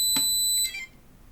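A drone flight controller's buzzer sounds in failsafe as a high, piercing electronic tone that holds steadily, then stops abruptly when the FS-i6 transmitter reconnects, leaving faint room noise behind.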